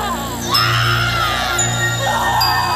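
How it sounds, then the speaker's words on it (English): A horror TV show scene fills with overlapping screams and strange, distorted voices over a steady low drone, loud and continuous throughout. "you can hear all these screams and weird voices"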